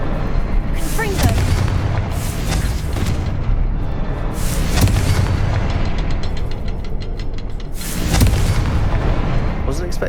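Confringo blasting-spell explosions from the Hogwarts Legacy video game go off as several loud, rumbling booms within a dense, continuous stream of game sound.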